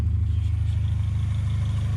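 A third-generation Honda Prelude engine idles steadily after cooling hose work, a close, even, low rumble with a regular pulsing throb and no voices.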